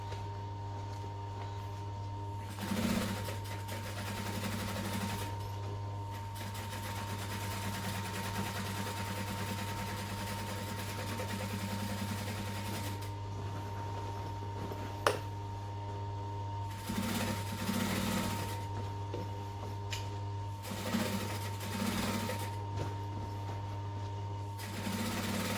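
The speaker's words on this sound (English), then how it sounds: "back stitch, then I'm just going to veer off slightly and do a second line around" A sewing machine stitches a second line around a duffel bag, its motor running in several long buzzing bursts separated by brief pauses, close and steady over a constant low hum.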